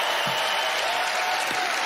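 A magic-show studio audience applauds a magician performing a meditation-themed trick, a steady dense wash of clapping carrying through the brief moment at full level.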